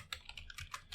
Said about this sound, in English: Right after you type this, you can just print